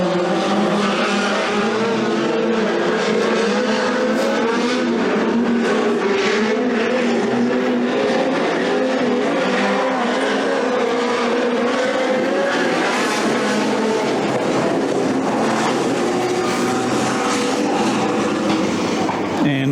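Several speedcar engines drone together at a dirt track race meeting, a dense, steady mechanical roar that carries on throughout, with a commentator talking over it.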